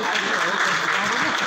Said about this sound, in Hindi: रश्मि रंजन बेहेरा मीता चक्रवर्ती गोटे जोरदार करताली हो टिके